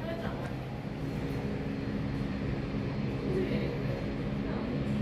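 A steady, loud engine rumble from aircraft at Taipei Songshan Airport, with UNI Air flight 8607 nearby, continuous throughout with no clear pauses.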